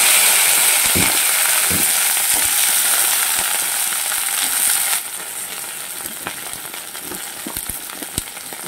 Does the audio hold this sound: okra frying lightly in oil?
yes